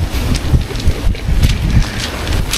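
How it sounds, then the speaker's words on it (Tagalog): Strong wind buffets a microphone at a beach camp in Lobo, Batangas, a loud continuous roar with gusty low thumps throughout, no voices. "Sobrang lakas ng hangin."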